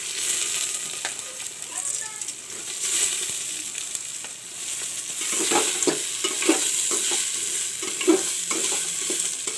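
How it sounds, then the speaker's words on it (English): Rice sizzles in a hot pan with bay leaves and green cardamom while a spoon stirs and scrapes through it in irregular strokes, close up under a steady hiss. "I will brown the rice properly till it turns little brown"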